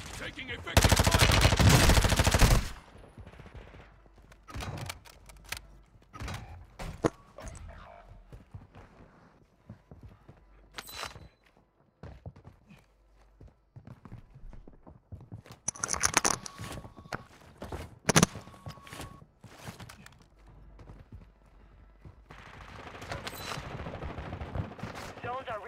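Gunfire in a video game: a loud opening burst of automatic fire, then scattered shots, footsteps and gear rustle, with more bursts later and game voice callouts in between.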